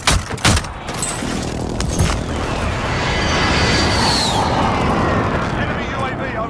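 Called-in artillery strike in Call of Duty Warzone: a burst of loud booming impacts at the start, then sustained rumbling explosive barrage and crackle, with game radio voice lines over it.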